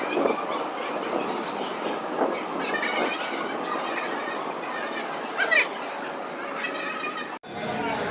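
A train rumbling and clattering through Cuttack railway station, with metallic squeals, hissing and a steady rolling noise, close and continuous.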